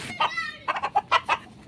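A chicken clucks in a quick series of short, close calls, with a rising squawk near the start and a soft hiss of background noise.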